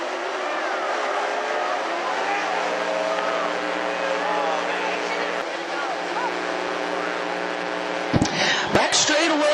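600 mini sprint race cars circle a clay oval at Deming Speedway under caution, a steady droning engine roar holding throughout, with a few sharper bursts near the end.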